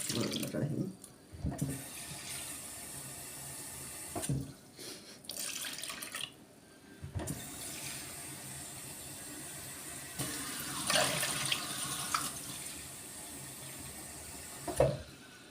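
Water poured into a pot for making Turkish lentil kofte, a continuous close splashing, trickling flow with brief louder surges and clinks, fairly quiet, no talking.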